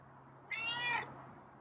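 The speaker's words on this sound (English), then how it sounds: "Yeah, it's a nice meow." A single high, drawn-out cat meow, close and fairly quiet, over a faint steady hum.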